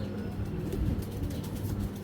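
Pigeons, a pair of large hens kept by a breeder for sale, give low throaty coos that pulse steadily at close range, with no voices over them.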